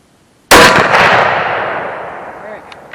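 A single sharp, loud 8mm Mauser rifle shot fired at a 50-yard target, close by, followed by a long, fading reverberation.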